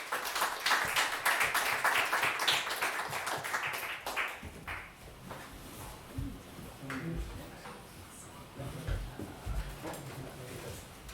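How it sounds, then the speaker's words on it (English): An audience at a tech talk night about JavaScript and functional programming breaks into loud applause for about four seconds, then the clapping fades into scattered taps and murmuring talk in the room. "So let's give a big round of applause to him as well."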